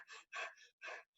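A voice imitates nervous breathing with three quick, audible breaths in close succession, near and fairly soft, in a quiet room.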